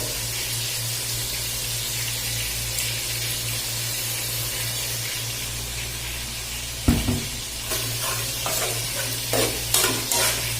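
Pancit noodles with soy sauce stir-frying in a pan, a steady hiss of frying throughout with a low hum beneath, then a louder burst of scraping and clattering as the noodles are tossed and stirred near the end.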